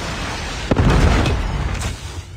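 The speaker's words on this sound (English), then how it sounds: "Predator missile inbound." Predator missile explosion in a Call of Duty Ground Wars match on the Crossroads map, a sudden deep boom followed by a rumbling, crackling roar that slowly fades over about two seconds.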